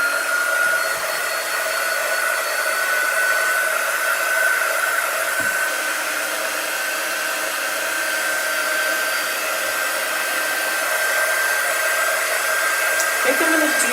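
A hair dryer runs steadily for the whole stretch, drying chalk-painted holiday letters, a loud continuous whir with a faint high whine and no talking.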